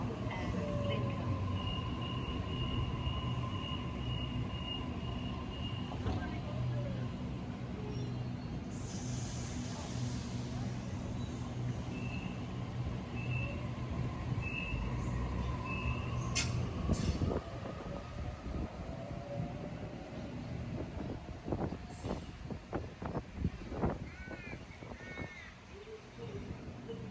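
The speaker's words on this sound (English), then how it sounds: "Now coming into platform 2 is a Series 1 Waratah with a service to Lidcombe." A Series 1 Waratah train rolls into a suburban Sydney station platform, a long rising rumble of wheels and motors, with brief high squeals near the end as it slows to a stop.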